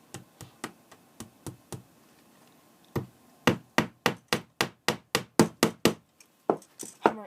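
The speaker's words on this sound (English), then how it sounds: "hammer it down into the track and just check" A hammer taps cork strips down into a track in a row of sharp, close knocks, a sparse run of single blows, a short pause, then a faster, louder even series that slows near the end.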